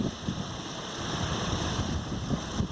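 An iSta Breeze 105cm wind turbine spins in moderate wind, its blades giving a steady whooshing hum with tonal whine layered over gusty, rumbling wind buffeting the microphone.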